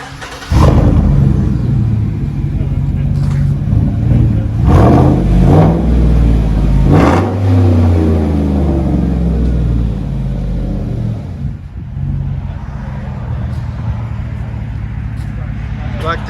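A Chevy/GMC V8 truck engine, 4.8L, 5.3L or 6.0L, revs loudly from inside the cab, surging and falling through a few throttle blips before settling to a lower rumble, with a voice speaking over it.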